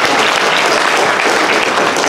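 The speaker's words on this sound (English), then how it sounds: "A round of applause for Melissa," Loud, dense audience applause at a costume contest fills the space steadily from start to finish, a continuous wash of many clapping hands with no voices standing out.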